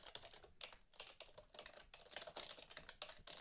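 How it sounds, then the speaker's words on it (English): Someone types values into a form on a computer keyboard, quick irregular clicks in short bursts with brief pauses, close and quiet, no voices. "I'll start by clicking into the form and typing in some values."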